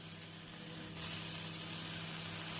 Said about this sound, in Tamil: தக்காளி சேர்த்து மிதமான தீயில் நன்றாக வதக்க வேண்டும்.